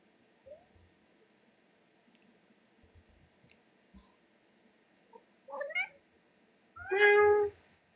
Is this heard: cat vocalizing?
yes